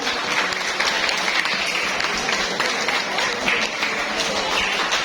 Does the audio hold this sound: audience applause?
yes